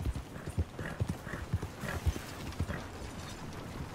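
Hooves of a horse pulling a cart in the Red Dead Online video game clop in a steady, even rhythm, moderately close, with faint wheel and harness rattle and no talking.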